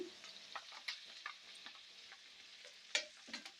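Mustard seeds, fenugreek powder and curry leaves tempering in hot oil for a tomato pickle, a soft steady sizzle broken by scattered crackles and spoon-stirring clicks, with one sharper pop near the end.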